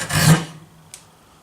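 A chisel pares curls from a piece of wood in one close rasping stroke that fades out, followed by a brief light scrape near the end.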